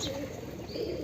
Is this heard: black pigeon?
yes